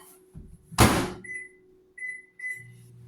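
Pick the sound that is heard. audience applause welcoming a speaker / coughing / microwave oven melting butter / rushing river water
microwave oven melting butter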